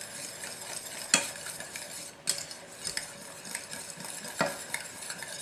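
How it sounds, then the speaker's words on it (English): Pastry cream being whisked vigorously in a bowl, with fast continuous scraping strokes and occasional sharp metallic clinks against the side, fairly quiet and close, with no talking. "I'm going to whisk this vigorously for about 2 minutes."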